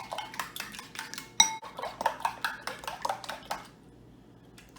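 Utensil clinks and scrapes in a bowl as thick honey and eggs are mixed together, rapid rhythmic clatter up close that stops near the end.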